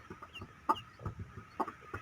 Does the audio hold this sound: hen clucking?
yes